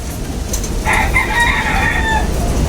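A champion-bred gamecock rooster crows once, loud and close, a drawn-out call rising over a rough outdoor background.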